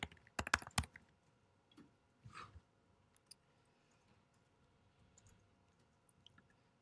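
Typing on a computer keyboard, a rapid burst of loud close clicks at the start followed by a few scattered softer keystrokes, with no talking.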